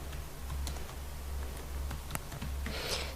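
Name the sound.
typing a name on a computer keyboard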